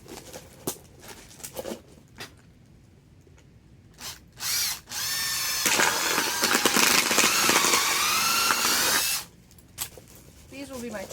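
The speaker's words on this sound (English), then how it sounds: "I want to drill some holes down in these cups" A power drill whirs in short bursts, drilling holes in plastic cups, then runs steadily for several seconds before stopping, with some clattering handling noise around it.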